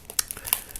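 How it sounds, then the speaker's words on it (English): Cellophane wrapping is peeled off a new deck of parlour playing cards, giving several quick crisp crinkles and crackles in uneven bursts, close and fairly loud, with no voices. "I'm going to take the cellophane off"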